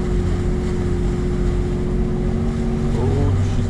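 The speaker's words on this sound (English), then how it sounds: "I'm going to go into second gear low range and just push my way through" A Toyota 80 Series 4WD pushes in low-range second gear through deep water in Wilga State Forest, its engine a steady loud drone with continuous water rush and wind buffeting the microphone.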